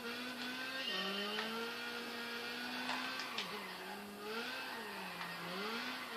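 A Volkswagen Golf 6 in Gran Turismo 5 drifting, its engine note rising and falling in steady swoops with tyre noise layered above, loud and continuous with no talking.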